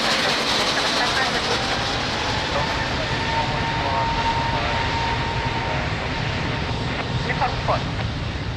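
A passenger airliner takes off from runway 02 at Lisbon Airport, its jet engines roaring in a loud, continuous, broadband rush that holds steady throughout, with faint radio chatter underneath.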